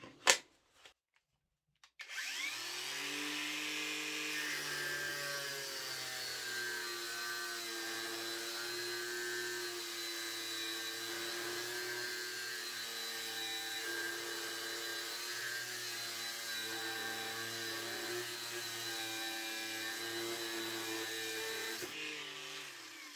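A Parkside Performance PWSAP 20 Li-C3 cordless angle grinder runs on a fully charged 8Ah battery. After a brief click and pause it spins up into a steady, loud, high whine that holds for about twenty seconds before cutting off.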